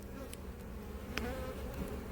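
Honey bees buzz around an open hive at an apiary, a continuous close hum with a few brief passes of individual bees standing out.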